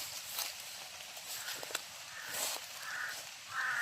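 Crows cawing somewhere out in mountain country, a few faint, distant calls drifting over a quiet, hissy outdoor background with no talk.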